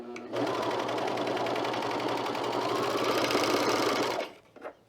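A sewing machine runs a continuous burst along a side seam of a Cashmerette Brattle top, its close, even motor whir starting abruptly and stopping after about four seconds, followed by a faint clunk.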